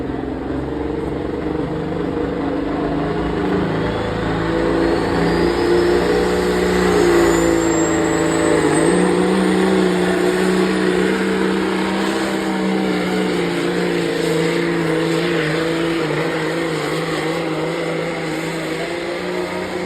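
Super semi trucks roar at a truck pull event in Bowling Green, Ohio, with a steady heavy engine drone held for the full stretch and a faint rising whine partway through, sounding from a moderate distance.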